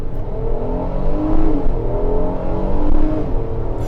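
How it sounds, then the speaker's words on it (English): A 2025 Acura MDX all-wheel-drive SUV pulls away from a standstill in comfort mode, its engine note rising steadily with a couple of quick gear shifts, heard loud and close from inside the cabin. "Off the line in comfort mode."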